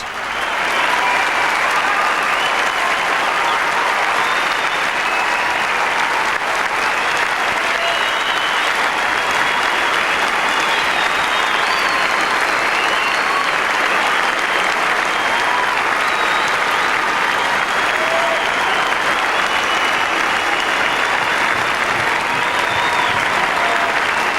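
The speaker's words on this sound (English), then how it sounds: "please join in the applause" A large theatre audience gives sustained, thunderous applause after a Riverdance performance, an unbroken wall of clapping with scattered cheers, loud and steady from start to finish.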